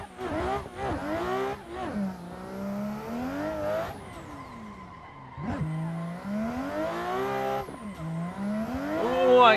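A drift hatchback in a racing video game at Long Beach revs and bogs through repeated sweeps while its tyres squeal and skid. Loud, close and continuous, with no voices.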